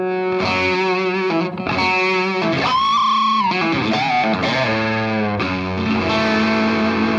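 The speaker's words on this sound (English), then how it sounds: "So the harder I hit the note, the more distortion I get" An electric guitar played through a distortion effects pedal rings out close and loud, with sustained, gritty, harmonically rich notes and bends that carry continuously across the passage and no talking.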